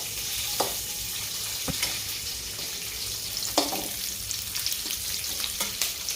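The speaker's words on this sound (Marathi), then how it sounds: "दुसरी कढई ठेवली आणि त्यामध्ये आता छानपैकी कांदा परतून घेऊ" Onions sizzle steadily in a hot pan, with occasional scrapes and knocks of a spoon stirring.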